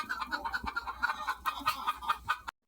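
A large flock of big domestic hens sitting in a coop in Saudi Arabia clucks in quick, repeated bursts, fairly close and steady for over two seconds before stopping abruptly, with no talking.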